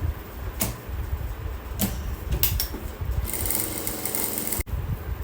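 A sewing machine stitching along buckram at a garment neckline, running steadily with a busy mechanical whir and clattering beats throughout, close and fairly loud.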